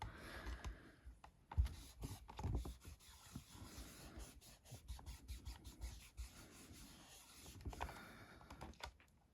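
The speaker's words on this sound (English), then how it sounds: "I'm just going to wipe off a bit of ink around that edge." Rubbing and wiping ink off the edge of a handmade Mother's Day card, with soft irregular scuffing strokes up close, fairly quiet and without speech.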